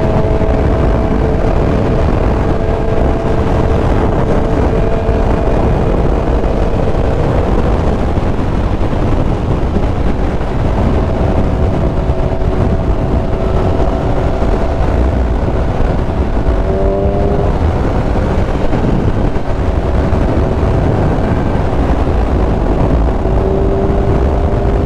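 A 2023 Yamaha R1 sportbike ridden hard, its engine drone steady and loud with rising and falling pitch as the revs change, buried in heavy wind buffeting across the whole stretch.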